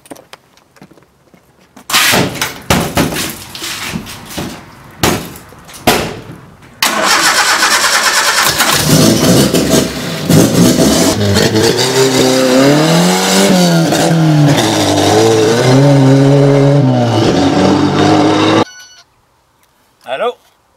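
A car engine cranks and catches after a few bursts of starter noise, then settles into a loud, steady run with rising and falling revs for several seconds before cutting off abruptly; a brief voice is heard near the end.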